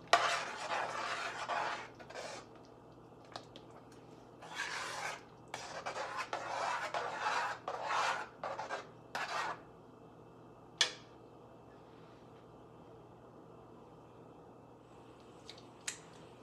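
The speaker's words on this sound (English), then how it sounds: "Now I'm going to stir." A spoon scrapes and stirs shrimp étouffée seasoned with Tony's Creole seasoning in a pot, in bursts of close, rasping strokes that fade to quiet, with a single sharp clink near the end.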